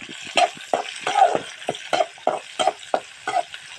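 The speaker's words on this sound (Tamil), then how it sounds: "வதக்க போகிறேன்." Food sautés in a pan, with a steady soft sizzle and a series of sharp, regular scraping stirs of a utensil against the pan, close and moderately loud.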